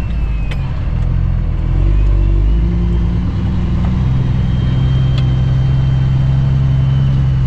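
A semi truck with a trailer attached pulls away on a northern Minnesota road, its deep diesel rumble loud and close and building slightly as it gets moving.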